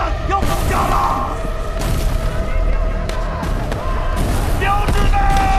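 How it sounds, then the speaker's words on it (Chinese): Bomb explosions in an air raid scene from the 2021 war film The Battle at Lake Changjin, loud booming blasts and rumbling impacts in quick succession, with shouted voices over the barrage. "标实弹要爆炸了！"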